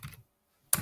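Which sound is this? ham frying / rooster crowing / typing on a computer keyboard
typing on a computer keyboard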